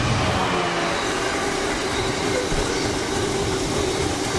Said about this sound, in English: on the down there's a freight liner with not many containers on it going north